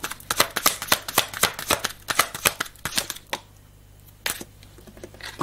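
Playing cards being shuffled and drawn, a rapid run of sharp riffling snaps and flicks close by, easing into quieter handling and a final single card snap.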